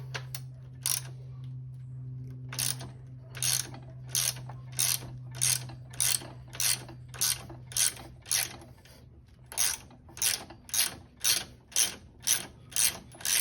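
A hand ratchet turns an 8mm bolt on a Triumph Speed Twin motorcycle during an Ohlins suspension install, giving a steady run of close clicking pawl strokes over a low background hum.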